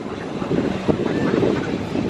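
Steady wind buffets the microphone outdoors by a duck pond, a continuous low rumbling roar that fills the whole stretch at fairly loud level.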